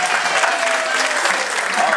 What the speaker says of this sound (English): There, give Faith a round of applause.